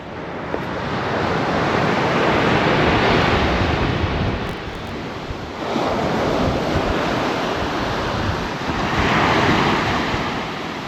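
Strong wind and breaking sea waves on a winter beach in Spain, loud and continuous, with gusts buffeting the microphone and surf rising and falling in surges, with no voices.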